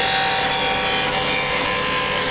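A roughing gouge cuts wood on a spinning lathe, giving a loud, steady scraping hiss that runs unbroken through the whole stretch with no voices.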